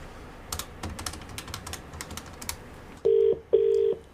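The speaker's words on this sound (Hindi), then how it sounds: "अब एक इंसान को फोन लगाने वाला हूं मैं जिसका मुर्गा बनाना है। फोन मिलाओ।" A telephone number is dialed for a radio prank call: a run of scattered keyboard-like clicks, then two loud sustained keypad tones in quick succession and a short blip at the end, close and clear with no talk.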